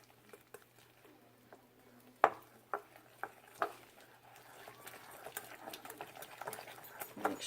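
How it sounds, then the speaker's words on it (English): Cheesecake ingredients whisked in a separate mixing bowl: a few sharp taps against the bowl, then a fast, steady scraping rattle that builds toward the end, fairly faint, with no talking. "I just whisk this up."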